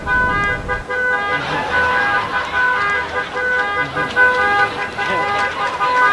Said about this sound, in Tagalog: gawa na yung busina